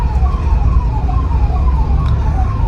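Siren of an emergency vehicle moving through heavy Mumbai traffic, a wavering wail cycling at a moderate distance over a constant rumble of engines and road noise.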